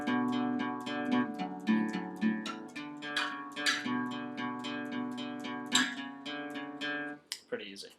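A guitar plays a part of a song, a steady run of plucked notes with sliding pitch changes, close and clear, ending with a brief muffled strum.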